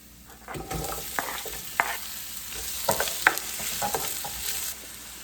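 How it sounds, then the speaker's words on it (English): Onion goes into three tablespoons of hot olive oil with garlic for curried chicken wings, giving a soft sizzle broken by several stirring scrapes and clacks, close and without speech. "I have 3 tablespoons of oil there. Some olive oil. And I am going to put the onion."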